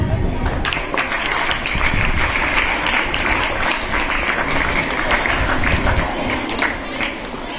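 Steady, dense clapping from a school audience at an Independence Day ceremony, continuous and fairly loud throughout, with crowd murmur underneath.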